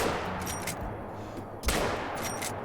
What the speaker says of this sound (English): First shot was no good, second shot hit right behind it, and I don't think we'll get a third shot.